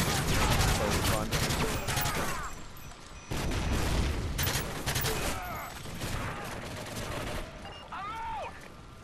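Heavy gunfire from MW3 Survival mode, with repeated rapid bursts and booming blasts in loud waves. Game voices talk faintly among the shots.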